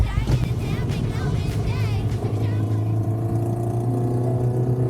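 A 1983 Suzuki Katana motorcycle exhaust runs with a steady, loud engine drone that holds close and constant throughout, with a slight rise in pitch early on.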